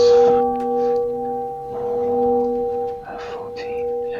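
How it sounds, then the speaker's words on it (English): A bell sound effect rings out with a steady sustained tone during a tabletop fantasy role-play battle, ringing on through several seconds beneath faint background noise. "that bell sound just sounds out"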